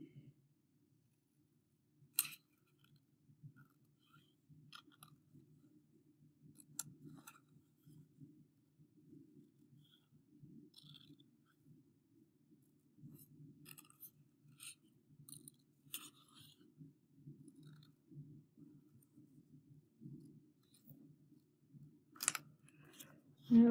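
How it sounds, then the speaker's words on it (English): Scissors snip through paper while shapes are cut out for a single-colour notan design, sharp isolated clicks and cuts spaced irregularly over faint low hum, quiet and close. "I'm going to cut the biggest one out of all of them."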